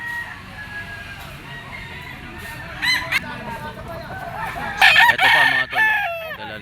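A white-legged straight-comb gamefowl rooster crows a few times at close range, its strained calls rising above a steady background hum, with clucks from other fowl and someone talking nearby.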